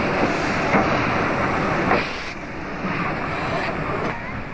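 South Australian Railways steam locomotive 621 rolling slowly onto a turntable, a steady loud rumble with dull knocks over wind noise outdoors, with voices faintly present.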